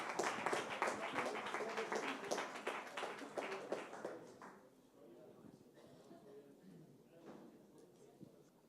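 A seated audience at a French finance-sector event breaks into loud, dense applause that carries for about four seconds, then thins to a few scattered claps over low room murmur.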